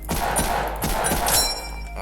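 Weapon fire in the Ragdoll Universe video game, a long-range gun with recoil and slow projectiles, sounds as four or five sharp, close gunshots in an uneven rapid sequence over a steady background, with no talking.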